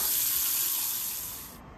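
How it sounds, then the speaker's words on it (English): Running water splashes over a waterproof rechargeable cordless table lamp with a 6000mAh battery as it is rinsed, a steady close hiss that fades away near the end. "Rinsing it under water,"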